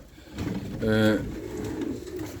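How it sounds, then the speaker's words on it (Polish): A racing pigeon gives a clear rolling coo close by, over a soft background murmur. "To są Natalii gołębie."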